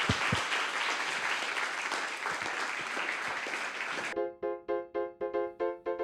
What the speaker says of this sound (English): round of applause for Yuri.